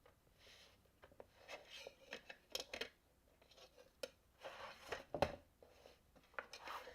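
Scissors snipping along a drawn line on suitcase material, giving quiet, irregular rasping cuts and short snips, close and faint with no talk.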